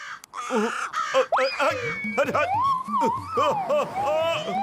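Cartoon crows caw repeatedly in an animated Motu Patlu episode, with harsh voiced calls overlapping busily alongside character voices and a rising siren-like whine.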